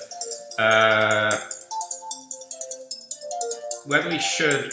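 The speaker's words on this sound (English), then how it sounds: "sorry about that, my phone's making noise" A mobile phone ringtone plays a bright electronic melody during a Zoom meeting. A long sustained tone is followed by a run of short beeping notes and then a louder burst, with voices faint underneath.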